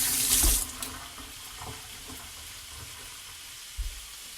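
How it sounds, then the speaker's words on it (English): Kitchen tap running as hands are washed at the sink, a loud rush of water in the first half second, then a quieter background with a few clicks and thumps. "I'm going to wash my hands, get the meat off my hands."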